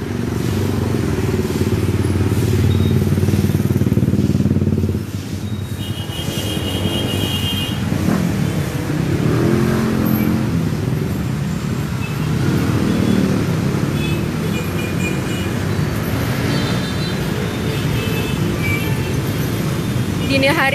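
Heavy Jakarta road traffic, with cars and motorcycles crawling past a police station where officers direct the flow, makes a loud, continuous rumble of engines, with a deep low drone easing after a few seconds and passing vehicles on top.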